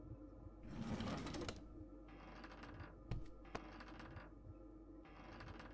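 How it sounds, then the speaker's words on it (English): Mechanical clicks, rattles and slides from drawers being opened in a night-time horror video game, repeated in several short bursts over a steady low background hum. "so we can open drawers."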